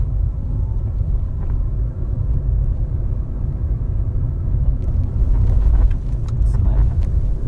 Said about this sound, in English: traffic is insane